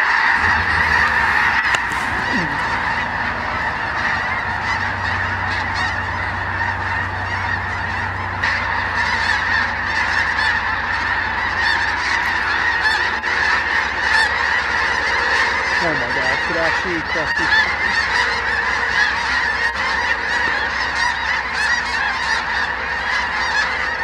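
Thousands of snow geese in North Dakota honk in a dense, continuous chorus, a loud massed clamor of overlapping calls that never lets up, with a low rumble of wind underneath.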